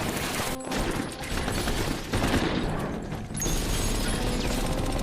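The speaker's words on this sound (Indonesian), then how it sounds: "terjadi baku tembak antara para polisi dan komplotan perampok ini" Film gunfire in a shootout between police and bank robbers: dense, continuous volleys of loud shots and impacts blur together into a sustained barrage.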